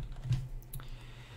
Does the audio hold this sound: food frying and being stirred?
no